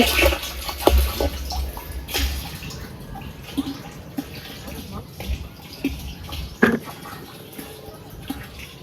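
Water pours steadily into a storage tank with a continuous rushing splash and a few louder surges, while people talk nearby.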